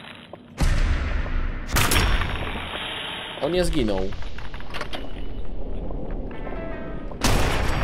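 Loud gunfire bursts from the video game Fallout 4, with sharp broadband shots and sustained rattling, a voice speaking briefly in the middle.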